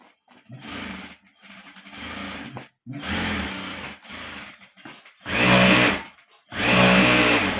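Sewing machine stitching a bag, several short whirring bursts separated by brief pauses, with the last two runs louder and faster, close by with no talk.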